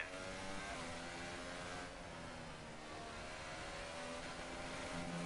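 A racing car engine in a video game at a Barcelona circuit drones steadily and loudly throughout, a continuous mechanical roar with only slight shifts in pitch and no pauses.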